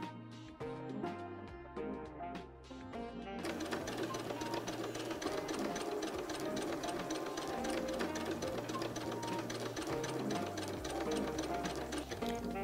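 A sewing machine stitches pieces of quilt fabric together for a shoofly quilt block, starting with a few slow stitches then settling into a fast, steady mechanical chatter, close and continuous with no talking.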